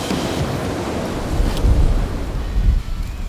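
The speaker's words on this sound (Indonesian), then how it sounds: "Angin semakin kencang." Strong wind on a mountain cliff face roars loud and continuous, buffeting the microphone. Deep gusts swell and rumble throughout.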